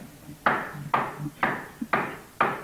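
Five sharp knocks on a door land at an even, unhurried pace, each one distinct and fairly close, with quiet room tone between them.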